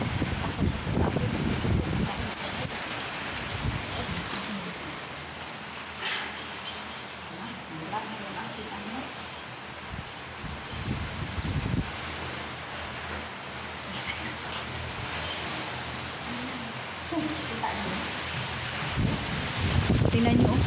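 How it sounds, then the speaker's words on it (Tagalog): A typhoon in Taiwan throws heavy rain and gusting wind in a constant loud roar, with rushing swells and wind buffeting the microphone, and a person speaks at times underneath. "narinig nyo po yan, haguros ng hangin"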